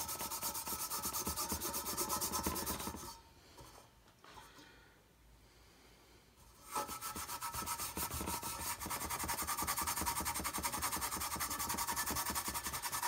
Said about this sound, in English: So I've got me a little piece of wire wool and I'm just going to work my way around this. To remove some of the rust.